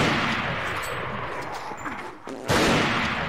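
Gunfire in the Rising of Evil game mod: a steady stretch of shooting and rumbling combat noise that dips briefly, then returns loud and abrupt.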